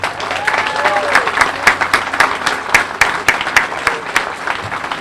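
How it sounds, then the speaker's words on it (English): An outdoor crowd at a park dedication applauds the New Bedford Symphony Trio with loud, dense, sustained clapping and no voices over it. "let's have another round of applause for the New Bedford Symphony Trio"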